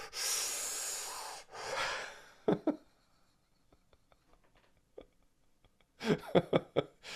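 Forceful rapid nasal breathing in a fire-breathing exercise, with two long loud exhale bursts followed by sharp sniffing pulses, a quiet gap of soft clicks, then a quick series of strong close breaths.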